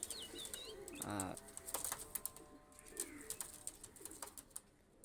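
Pakistani high flyer pigeons coo and flap their wings at close range, with soft chirps and rustling, and no voices.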